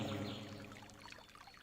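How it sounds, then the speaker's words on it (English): Water pours and trickles steadily in a flowing stream, fairly close and continuous, fading slightly toward the end, with no voices. "The singing of the birds and the music of the flowing stream of water has filled the entire atmosphere around you."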